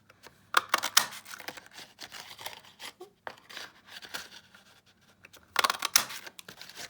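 Scissors cut through honeycomb-patterned paper scrap to shape a flower, a series of close, crisp snips and rustling paper crinkles in irregular bursts with short quiet gaps between.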